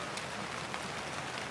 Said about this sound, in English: And now it's bloody raining.